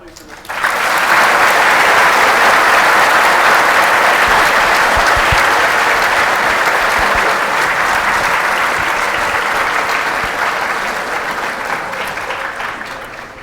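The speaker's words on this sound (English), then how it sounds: "Can we have a round of applause, please" An audience at a high school Holocaust presentation bursts into loud, sustained applause that starts abruptly, holds strong for over ten seconds, then gradually thins and softens.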